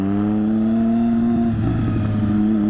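A 600cc motorcycle accelerates at night on a city avenue, its engine note climbing in a steady, loud rising whine, then roughening into a gritty rasp for the last second.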